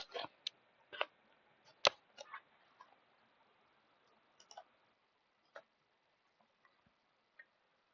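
Computer mouse clicks while working in a CAD assembly file, a handful of sharp irregular clicks close to the microphone, clustered at first and then sparse, with quiet between them.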